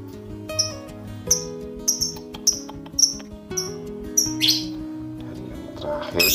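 Lovebird chicks, 19 days old, call inside a wooden nest box: a run of thin, high cheeps repeated about every second, close, over a low steady hum, with a louder scratchy burst near the end.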